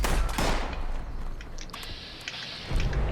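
Shots from a Bloodied Cryo Alien Blaster energy weapon in Fallout 76, a dense crackling burst of fire that starts loud, fades into a hissing tail and then gives a final sharp shot near the end.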